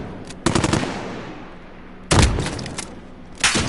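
Three loud, booming blasts from a sniper shotgun in Call of Duty, each a sharp crack trailing off into a brief rumble, spaced a second or two apart.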